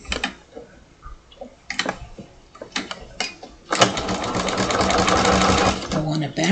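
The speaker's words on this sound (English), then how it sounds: "And you want to sew, remember the other sewing that I did was just at the edge." A sewing machine runs steadily while stitching fabric a quarter inch from the edge, starting after a few short clicks and handling noises, close and loud, with a person talking nearby at first.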